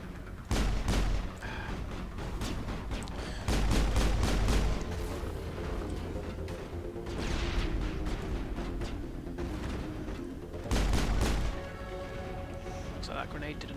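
Grenade explosion and gunfire in the Mass Effect video game, with repeated bursts of rapid shots and heavy booming blasts recurring through the scene, and a voice talking in between.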